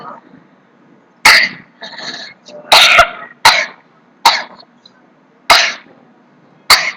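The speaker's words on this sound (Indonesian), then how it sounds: "Kenapa batuk ya?" Several sharp, harsh coughs in a row, close to the listener, with short pauses between them and a little quiet talk around.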